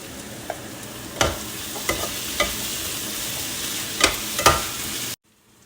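Cashew chicken sizzles steadily in a frying pan, with a handful of sharp spoon scrapes and clanks at irregular moments over the constant frying hiss, close and moderately loud, then the sound cuts off abruptly near the end.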